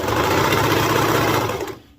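A serger runs steadily and loudly, sewing the side seam of a baby bodysuit from sleeve down to hem, with a continuous buzzing whir that winds down and stops at the end.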